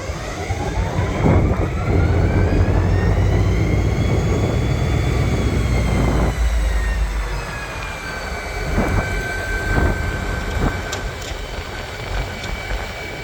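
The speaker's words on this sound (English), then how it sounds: "A modern-ish SD40 leading ancient 100-plus-year-old railcars, let alone passenger cars." An SD40 diesel locomotive hauls century-old Prairie Dog Central passenger coaches, its steady engine rumble and rolling wagon noise filling the scene, with tonal whistle-like lines and a few sharp rail clanks along the way.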